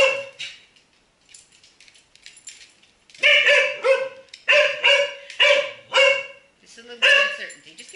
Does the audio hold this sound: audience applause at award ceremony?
no